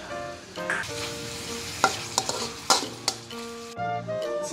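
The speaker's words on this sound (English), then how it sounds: "put the kushai and stir them together" Kuicheai and shrimp stir-fry with oyster sauce, seasoning and sugar in a hot pan, sizzling loudly and steadily up close while a utensil scrapes and taps against the metal in irregular strokes.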